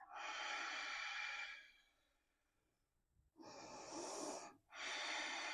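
Slow, deliberate breaths during a vinyasa yoga flow, moving from warrior three: a long, airy exhale, a quiet pause, then a rushing inhale and a further breath close to the listener, with no talking.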